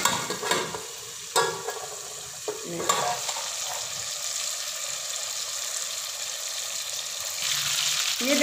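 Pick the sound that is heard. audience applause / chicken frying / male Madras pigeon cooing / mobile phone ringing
chicken frying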